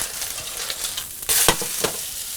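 Perch fish fillets sizzle steadily in a hot pan just after being flipped, with a loud continuous crackling fry and a few brief spatters close up.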